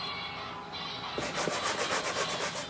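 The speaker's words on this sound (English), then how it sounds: "That's the sound of the milk paint cracking off." Milk paint cracking and flaking off a gallery wall piece under a scraper, giving a dry, gritty scratching that grows denser partway through, close and fairly quiet against steady room hiss.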